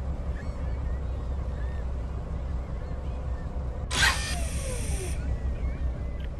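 A fishing boat moves steadily at low speed through the sea in Fishing: North Atlantic, with a constant low engine drone and water wash, plus a brief brighter burst of spray partway through.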